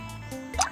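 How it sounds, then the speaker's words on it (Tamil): Ice cubes dropping into a watermelon drink, giving a short wet plop and clink near the end, close and moderately loud over a quiet background. "அடுத்ததாக கொஞ்சம் ஐஸ் க்யூப்ஸ்."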